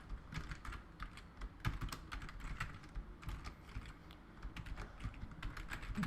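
Fast, uneven clicking of keys on a computer keyboard as Python code for a while loop is typed, close up and alone, with quick bursts and short pauses throughout.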